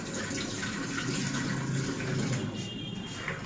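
Gondhoraj lemons being washed under a running tap, a continuous close gush of water splashing steadily for a few seconds, with no talking.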